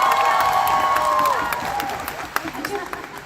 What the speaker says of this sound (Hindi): थोड़ा हो जाए तालियों के साथ थोड़ा सा प्यार